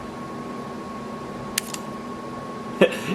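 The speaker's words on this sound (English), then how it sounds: "I'm gonna let you listen to the shutter." A quiet film camera shutter clicks twice, short sharp mechanical snaps over a faint steady hum.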